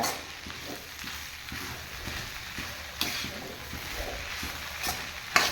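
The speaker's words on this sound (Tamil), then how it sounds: "இதை நல்லா கிண்டி விட்டுருணும்" Egg rice masala being stirred in a frying pan, a continuous close sizzle with repeated scraping strokes of a spatula and a few sharper knocks, no talking.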